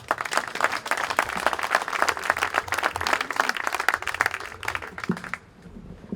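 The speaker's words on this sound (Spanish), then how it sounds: "Un aplauso para ella" An audience applauds at a tribute ceremony, a dense steady patter of many hands clapping for several seconds, then cutting off abruptly and leaving a quiet room with faint background noise.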